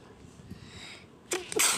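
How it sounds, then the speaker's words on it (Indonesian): A single loud sneeze comes close to the mic in two bursts, a sharp intake followed by an explosive release, after a quiet stretch of faint room noise. "bersin nih"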